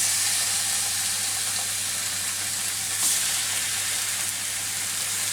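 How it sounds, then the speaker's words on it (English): Steak sizzling in a hot pan, with a loud, continuous, bright frying hiss that holds steady throughout, with no voices over it. "Sizzle."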